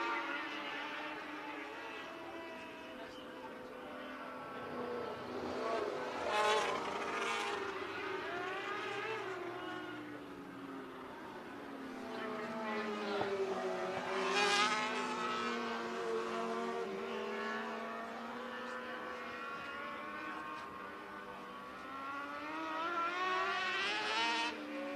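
Race cars roar around a dirt oval at Marion County Speedway, engine notes rising and falling as they sweep past in repeated waves, with tire noise as one car spins; a commentator talks over the action throughout.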